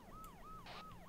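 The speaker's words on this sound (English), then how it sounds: "That's an ambulance." An ambulance siren wailing in repeated rising and falling sweeps, fairly faint and distant, with a few brief bursts of background noise.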